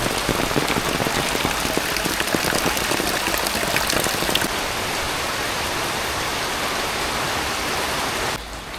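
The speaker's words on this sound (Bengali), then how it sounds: "সকাল থেকে বৃষ্টি তাও থামে নাই একভাবে নামতেছে" Steady rain pouring down without letup, a dense hiss of drops on surfaces, slightly heavier and more crackly in the first half.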